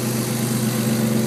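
A car engine idles slightly high, holding a steady, even hum with a low harmonic drone and no revving or talk.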